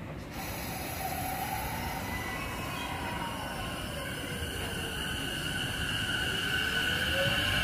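A JR Yokohama Line train pulls away from a platform at Sagamihara station with a steady rumble of wheels on rails and rising, squealing motor and wheel tones, close and continuous.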